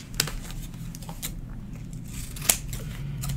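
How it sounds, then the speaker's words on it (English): Scissors cutting through a paper picture, a few quick crisp snips and slicing rasps close up in a quiet room. "Let me cut this really quick."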